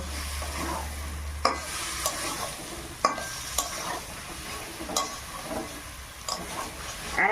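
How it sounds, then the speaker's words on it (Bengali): Boiled potatoes for aloo dum being sautéed in a pan, with a spoon scraping and stirring in irregular clicks over a steady close sizzle, no voices. "সিদ্ধ করে রাখা আলুগুলো দিয়ে দেবো ভালো করে কষিয়ে নেবো"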